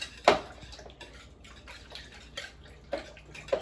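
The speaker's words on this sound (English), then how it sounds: "Give that a nice whisk." A whisk beating basil-infused pancake batter in a bowl, heard as faint, irregular clicking taps spaced across a few seconds, with soft wet swishes in between and no voices.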